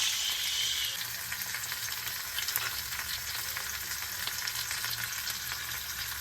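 Bangda mackerel fish frying in a hot pan, street style, gives a dense, steady sizzle and crackle that runs loud and unbroken throughout, with no voices.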